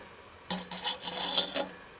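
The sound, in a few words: Dremel rotary tool grinding metal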